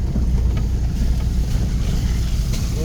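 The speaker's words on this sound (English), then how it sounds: "tiny baby water crossing here" An off-road vehicle drives through a shallow water crossing on a dirt road near Idyllwild. It makes a continuous heavy rumble with washing, splashing noise that stays loud and even throughout.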